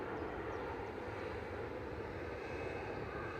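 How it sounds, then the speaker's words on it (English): Ryanair jet arriving from Porto and landing at Manchester Airport, a steady broadband engine roar heard from a distance, sustained and unbroken throughout with no voices. "Ryanair land in the background from Porto."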